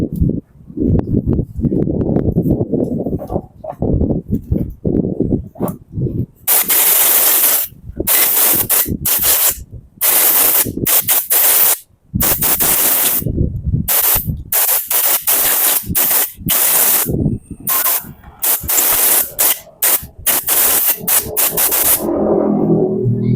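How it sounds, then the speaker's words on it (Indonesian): Compressed air is sprayed in repeated loud bursts at a Honda Blade motorcycle carburetor during cleaning, with harsh hissing blasts broken by short gaps after a stretch of lower background noise. "Oke, kita semprot dulu pakai angin."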